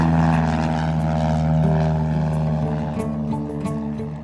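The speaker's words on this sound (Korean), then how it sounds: "오늘 비행기 엔진을 걸어야 돼가지고 위험해서 밖에서 하고 있습니다" A propeller airplane engine runs outdoors at Taean airfield, a loud, steady droning roar with a throbbing buzz that holds close and constant throughout, with no voices.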